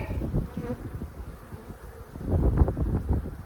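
Honey bees buzz steadily across a frame during a farm hive inspection, a dense close swarm drone with wind rumble on the microphone, swelling louder toward the end.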